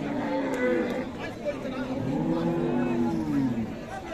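Friesian cows and calves at a busy cattle market in Dinajpur give drawn-out moos close by, heard under people talking and general crowd babble.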